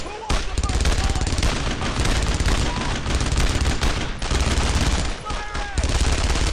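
Loud, dense video game battle from Brothers in Arms: continuous machine gun fire including a German MG-42, with overlapping rifle shots and bursts, and soldiers shouting throughout.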